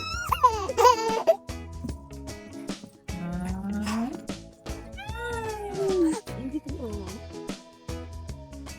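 Domestic cat meowing several times in drawn-out, rising and falling calls, fairly close, with people talking around it in a home setting.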